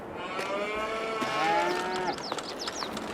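Cows in Farming Simulator 22 moo in overlapping, drawn-out lowing calls close by, with soft clicks and chirpy farm ambience mixed in underneath.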